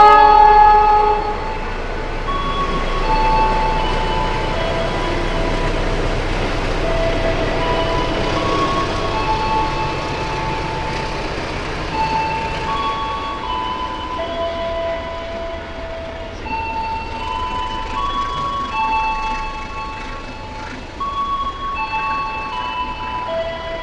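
Progo economy train in Indonesia runs along the rails in a loud, continuous rumble with droning tonal hums and steady wheel noise that fades slightly over time, with no talking.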